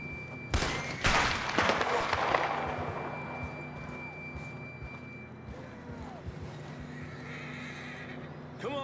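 A horse neighs loudly near the start in Red Dead Redemption 2, followed by hoofbeats and a quieter game soundscape with a faint steady tone.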